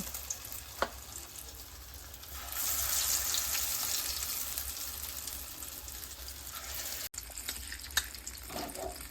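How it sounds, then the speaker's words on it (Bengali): Raw mango rings dipped in lentil batter fry in hot oil as fritters. There is a soft background hiss, then a louder sizzle that swells for several seconds before easing back, with a few light clinks near the end. "তেলের ওপর দিয়ে বড়াগুলো ছেড়ে দিয়েছি"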